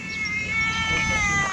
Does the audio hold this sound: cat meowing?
yes